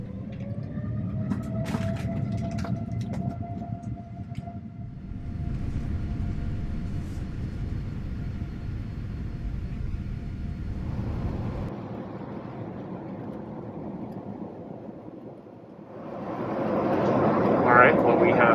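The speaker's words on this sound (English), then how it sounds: "we have begun our descent into Toronto" Steady low cabin roar of an Air Canada airliner descending into Toronto, a continuous broadband drone that shifts in tone partway through and swells louder near the end.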